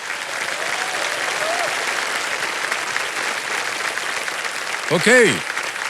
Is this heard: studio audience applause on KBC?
yes